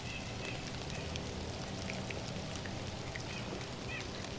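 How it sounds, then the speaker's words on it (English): Light rain sprinkling in a suburban garden in early November, a faint steady patter of drops with scattered brighter ticks and a few distant bird calls in the background. "I don't know if you can hear the rain, but it's just started sprinkling on me."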